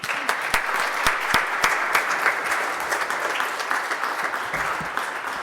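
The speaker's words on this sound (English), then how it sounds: "Another round of applause for Ben." An audience applauds a composer at a concert, steady clapping across the whole stretch with a few sharper individual claps standing out, moderately loud and continuous without talk.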